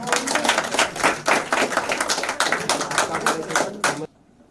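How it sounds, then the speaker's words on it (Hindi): An audience at a leadership event claps loudly with crisp, rapid hand claps for about four seconds, then stops abruptly into near silence. "जोरदार तालियों के साथ प्लीज"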